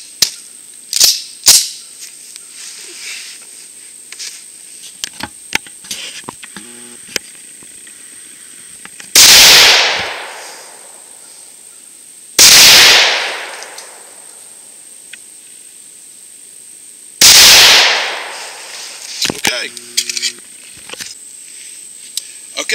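A Coonan .357 Magnum pistol firing 158-grain Perfecta full metal jacket rounds outdoors: three loud, close single shots spaced seconds apart, each with a long ringing decay, amid scattered handling clicks and some talk.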